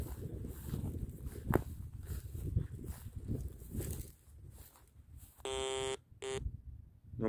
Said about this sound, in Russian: На банку пищит точно.